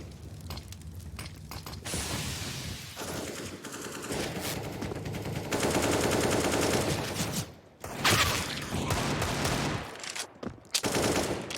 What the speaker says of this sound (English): Twist trying to punish Coldy as he spammed a fair few bullets through the smoke.